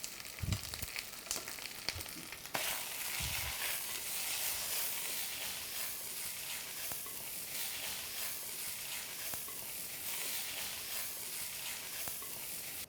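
Butter sizzles and fries steadily in a hot induction frying pan, a continuous bright crackling hiss with a few soft stirring knocks near the start.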